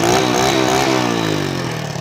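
A motorcycle fitted with a home-modified exhaust revs up close and loud, then its engine pitch slides down smoothly as the revs fall over about two seconds.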